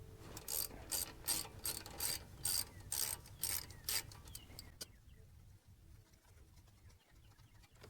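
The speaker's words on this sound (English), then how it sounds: "You should be able to go ahead and loosen this one up the rest of the way." A ratchet wrench clicks in quick rhythmic bursts while loosening a brake line fitting on a 2011 Ford F150, the clicking stops partway and quieter shop sounds follow.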